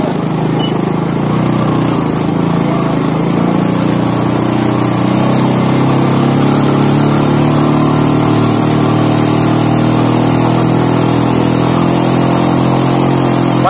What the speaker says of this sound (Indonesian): Pakai motor butut